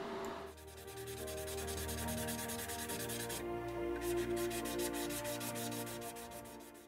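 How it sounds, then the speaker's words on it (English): A mould line on the plastic body of a 1/12 Italeri Bugatti Type 35B model car kit is sanded: a continuous soft rubbing under loud steady music, with no talk. "Once the sanding is finished, the area is then buffed with a 4000 buffing pad."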